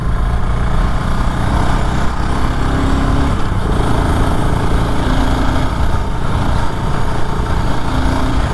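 A BSA Gold Star motorcycle rides through country lanes at about 45–50 mph, its single engine droning steadily and loudly close by for the whole stretch, with no voices over it.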